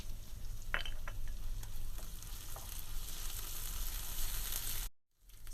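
Chilies and ginger garlic paste sauté in a pan for mushroom masala, giving a continuous close sizzle with a few faint stirring scrapes, no voices, and a brief cut to silence near the end.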